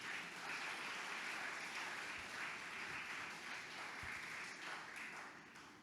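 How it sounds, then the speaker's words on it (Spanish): A church congregation at a Sunday service applauds steadily, a dense, even wash of clapping heard from a distance at low level, tapering slightly at the close. "¿Cuánto le dan un fuerte aplauso al Señor?"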